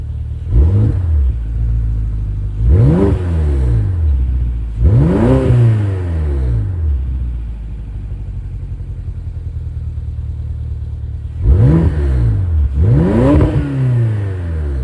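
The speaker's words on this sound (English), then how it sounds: "I'll do a couple revs in normal mode and I'll switch it to M mode" A BMW X5M revs repeatedly through its stock exhaust with the flaps open, five loud, sharp blips rising and falling in two groups, with a steady low idle rumble between them.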